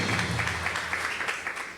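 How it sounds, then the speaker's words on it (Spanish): A church congregation applauds during a Spanish-language worship service, a steady wash of many hands clapping at moderate distance, sustained across the whole moment with no pauses. "Dale ese aplauso al Señor."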